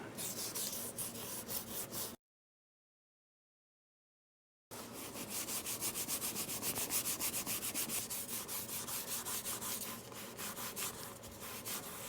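Sandpaper rubs briskly over car interior trim in a BMW E46 330ci, giving a close, steady back-and-forth scratching, cut by a silent gap of a couple of seconds before resuming.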